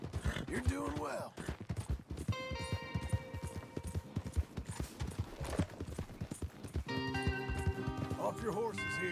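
Horses gallop with rapid hoofbeats under overlapping voices and shouting, alongside electronic tones and game-like effects, in the video game Red Dead Redemption 2.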